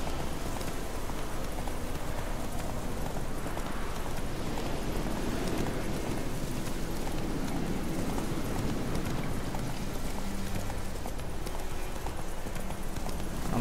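Horse hooves clopping steadily in The Witcher 3 as the mount runs, a dense, continuous galloping rhythm blended with ambient game noise at an even level, without speech.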